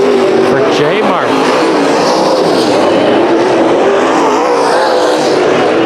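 Race cars roar around the dirt oval at Bakersfield Speedway during a heat race, a steady, loud engine drone that rises and falls as the cars pass, with a voice talking over it throughout.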